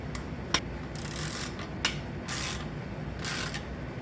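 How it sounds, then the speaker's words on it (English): A socket wrench ratchets a bolt tight while a squat rack is assembled, giving close, quick clicking runs in several short bursts with brief pauses between them. "if you got a socket wrench here, you can just tighten it like that real quick"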